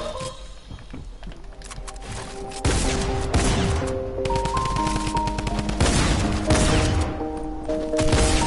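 Sniper gunshots in the Fortnite video game, with sharp, loud cracks repeating at irregular intervals and ringing tonal game effects between them; no talk is heard.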